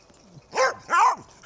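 A dog barks twice nearby at a carp fishing spot outdoors, two sharp separate woofs with a short gap between them and no talking over them.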